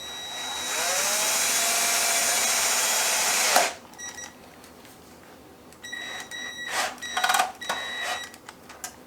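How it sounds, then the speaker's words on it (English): A power drill whines steadily for several seconds, stops abruptly, then follows with a few shorter, rattling bursts of drilling into a titanium camping tent stove. "That is the reason I want to drill through and make sure that it doesn't happen later."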